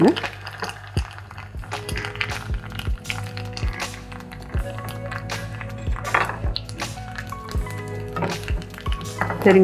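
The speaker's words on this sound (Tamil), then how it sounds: "நல்லா ஒரு ரெண்டு டேபிள் ஸ்பூன் வேப்பம்பு போடுங்க" Neem flowers sizzle steadily in hot oil in a pan as they are added and stirred, with scraping and clinking of utensils, no voices.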